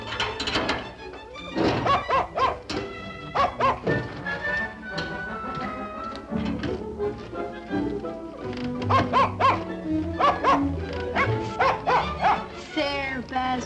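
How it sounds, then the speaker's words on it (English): A dog barks repeatedly from inside its crate in a series of close, loud bursts, with some yips mixed in and someone speaking among them. "Hasn't anyone let that poor dog out of its crate yet?"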